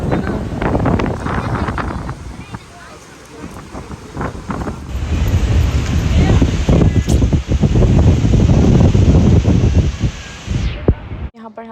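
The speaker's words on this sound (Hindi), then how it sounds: "इतनी तेज़ हवा चल रही है।" Strong wind roars and buffets the microphone nonstop during light drizzle at a picnic, a heavy rushing blast with a faint voice buried underneath.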